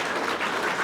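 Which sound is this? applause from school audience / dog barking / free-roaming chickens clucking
applause from school audience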